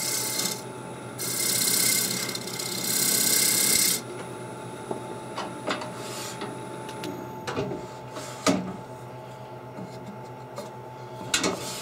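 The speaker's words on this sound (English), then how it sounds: "slow the lathe" A woodturning lathe spins slowly while a tool rasps across a pentagonal wooden dish, giving steady scraping bursts early on, then quieter intermittent rubs and light knocks close by, with no talk.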